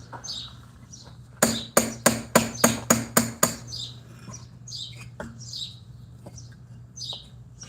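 Sharp hammer strikes on 200-year-old brick during patio leveling, a quick run of about eight evenly spaced loud knocks, then a few scattered taps, with birds chirping and a steady low hum behind.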